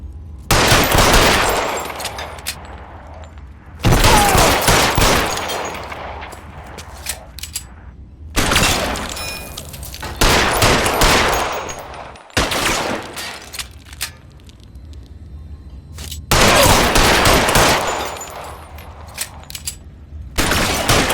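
Repeated bursts of gunfire in the L.A. Noire video game, loud and close, with long rattling volleys separated by short gaps of quieter ambience.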